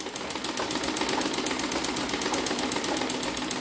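A domestic sewing machine running steadily for free-motion machine embroidery of a sunflower vase design, with a fast, even mechanical chatter of stitches that stays close and continuous throughout, without pause.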